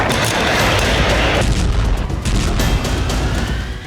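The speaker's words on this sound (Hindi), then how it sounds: "जबरदस्त धमाके का यह वीडियो बाखमुत के क्लिश्चिवका का है" A massive explosion from an airstrike on a weapons depot at Klishchiivka near Bakhmut sounds as a loud, sustained, distorted roar of blasts and rumbling that eases slightly toward the end.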